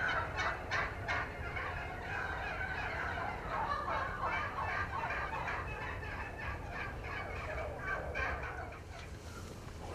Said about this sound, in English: around the corner on the other side of the timber there were a bunch of turkeys